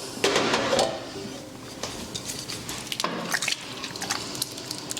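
Ham is stirred into a pot of split pea soup, giving wet squelching and squishing sounds with irregular scrapes and soft clinks, close and moderately loud throughout.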